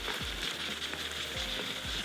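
Chopped green chillies and tomatoes frying in a pan over raised heat, a dense continuous sizzle with a few soft stirring scrapes, close and steady with no voices.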